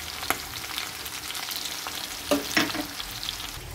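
Mushrooms, garlic and meat fry in a pan for a creamy pasta sauce, giving a steady close sizzle broken by a few clinks and scrapes of stirring near the middle. No voices.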